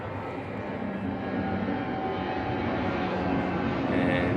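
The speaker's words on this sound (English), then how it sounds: "And Southwest Airways making an appearance." A Southwest Airways airplane passes overhead, its broad engine roar holding steady and swelling slightly as it nears, fairly loud and continuous in an outdoor setting.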